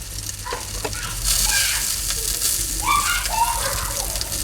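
Lamb turning on a rotisserie inside a pizza oven, with steady close sizzling and hissing fat that swells louder midway and continues without talk.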